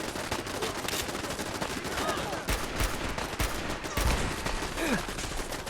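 Rapid bursts of automatic turret gunfire in Fallout 4, crackling in repeated volleys with sharper individual shots mixed in, loud and continuous across the moment.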